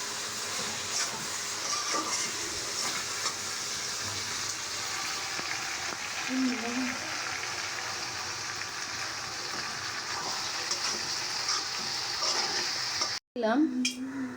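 Vegetable bhaji, finished with coriander leaves, sizzles in a pan while it is stirred, giving a steady, fairly quiet hiss with light scraping and a short break near the end.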